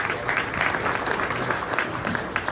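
An audience at a morning city address applauds a local coffee shop owner being introduced, steady enthusiastic clapping throughout with a faint crowd murmur underneath.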